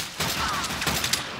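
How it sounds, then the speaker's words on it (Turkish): Rapid bursts of gunfire from a Resident Evil: Revelations 2 video game battle, dense and sustained across the whole moment with sharp overlapping shots. "Kim vuruyor?"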